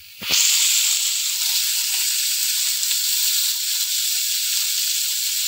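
Pointed gourd (potol) dropped into hot oil with salt and turmeric, bursting into a loud, steady sizzle that carries on close by without a break and with no talking.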